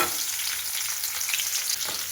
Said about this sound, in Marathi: जिरे छान फुलले की त्याच्यामध्ये मिरच्या टाकायच्या